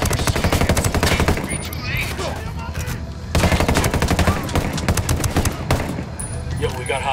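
Heavy gunfire in the video game Ghost Recon Wildlands, loud rapid machine-gun bursts with brief pauses, close and sustained throughout, with voices shouting over it.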